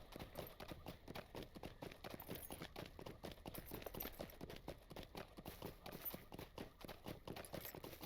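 Horse hooves clip-clop in a fast, even rhythm as a mount travels through Lord of the Rings Online, quiet and continuous with no talking.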